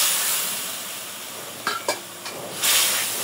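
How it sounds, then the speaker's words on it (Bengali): Masala of turmeric powder and salt frying in a pan for a hilsa curry with green banana and pointed gourd, a steady soft sizzle with a few short scraping stirs near the end. "মশলা একটু কষায় নেব।"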